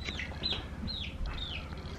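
A chicken on a farm makes a few soft clucks and chirpy calls, fairly close, over a low steady background rumble.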